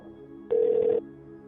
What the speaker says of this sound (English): I called Sean's phone immediately